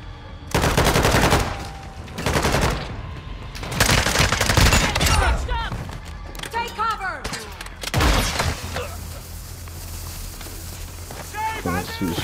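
Bursts of rapid automatic gunfire in Call of Duty: Modern Warfare II, several loud sustained volleys separated by short gaps, with people talking between and over the shooting.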